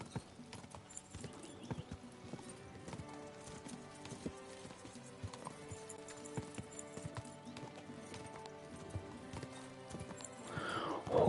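Steady clip-clop of horse hooves in Kingdom Come: Deliverance 2, a continuous trotting rhythm under faint game ambience, rising at the end into a whinny.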